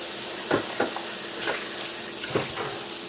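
Battered cauliflower wings frying in hot oil, a steady close crackling sizzle throughout with a few louder pops and clinks, no voices.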